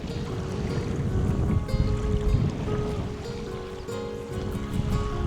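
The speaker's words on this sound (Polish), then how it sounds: "Straszna fala przyszła." A river wave on the Narew rocks a SUP board carrying a bicycle, giving a steady wash of water sloshing and lapping with some low rumble and faint creaks throughout.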